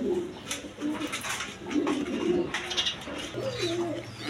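Racing pigeons coo in low, throaty, repeated phrases close by, with faint rustling and background noise, no voices.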